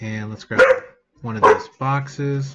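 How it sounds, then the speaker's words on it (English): A pet dog barks indoors, two short sharp barks standing out between stretches of someone talking nearby. "That was my dog."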